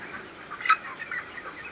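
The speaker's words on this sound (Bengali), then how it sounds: "সুন্দর মুরগি হচ্ছে।" Ross 308 broiler chickens, 29 days old, clucking on a farm: a few soft, close clucks with one brighter squawk in the middle over a quiet barn hum.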